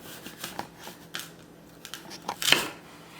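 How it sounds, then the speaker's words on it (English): A knife slices through a fresh apple in a home kitchen, giving a few faint taps and scrapes before one crisp, crunchy cut that splits the fruit in half, close and quiet with no talk. "Now it's apple time. I'm gonna cut this in half."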